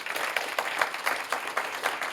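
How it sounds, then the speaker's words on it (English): An audience claps to welcome the author Sebastian Faulks at an evening event, a modest, moderately distant round of applause with individual claps popping out of the wash. "I think we should have a round of applause welcoming him."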